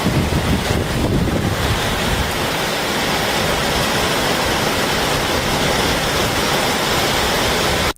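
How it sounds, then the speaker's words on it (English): Heavy rain pours down in Florida, a dense, steady hiss of downpour that stays loud and unbroken throughout before cutting off abruptly at the end, with no voices. "And then it started raining real hard."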